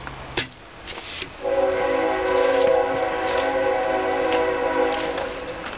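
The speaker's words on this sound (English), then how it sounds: "It's noon time here on the east coast of Arkansas. There's that train." A train passing in rural Arkansas at noon, sounding its horn in a long sustained blast after a few knocks and rumbles, loud and fairly near, with no voices.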